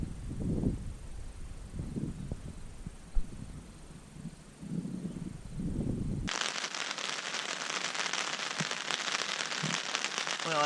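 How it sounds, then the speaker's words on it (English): Steady rain patters outside during a Nebraska antelope hunt as a dense, even hiss, preceded by a stretch of softer, muffled rumbling noise. "it's raining good now"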